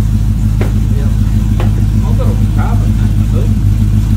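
A Holden HZ car's engine runs loud and deep nearby, a continuous throbbing rumble, while people talk over it and a few sharp knocks cut through.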